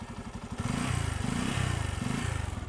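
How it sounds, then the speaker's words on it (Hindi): A four-year-old Bajaj Pulsar N250 motorcycle engine is revved at close range: a brief idle stutter, then repeated loud throttle blips that swell and fall back in a rough, pulsing rhythm. "इसके बाद मैं भी आपको इंजन का भी साउंड सुना देता हूँ"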